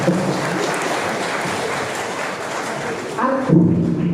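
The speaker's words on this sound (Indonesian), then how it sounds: "Tepuk tangan pun." An audience at a Halal Bi Halal gathering claps in a continuous, moderately loud burst, with a few dull thumps and a short louder swell near the end.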